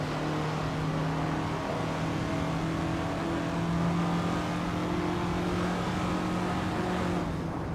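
Racing car engines in a racing video game with a 1974 Ford Gran Torino and a 1970 Ford Mustang, a steady droning engine hum held at constant pitch with no break.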